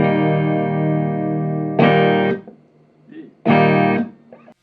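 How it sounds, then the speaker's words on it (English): An electric guitar is plugged straight into a power amp with no preamp, giving a harsh, buzzy, distorted tone: one long sustained chord, then two shorter strums with a brief fizzy decay after each, loud and close. "Have you ever tried plugging straight into a power amp or a mixing desk? It sounds pretty horrible."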